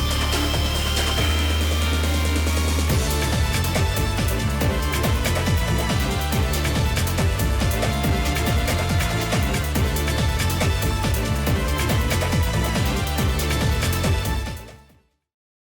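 Orchestrion roll music from Final Fantasy XIV plays as a dense, continuous piece at steady loudness for about fifteen seconds before cutting off abruptly at the end.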